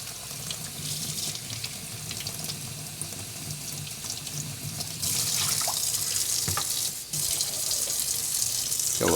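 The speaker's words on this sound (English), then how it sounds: "I'm gonna rinse this glass out while we just kind of let that sit." Tap water runs steadily into a sink while a glass is rinsed, a continuous close splashing hiss that grows louder partway through as the flow hits the glass, with no talking.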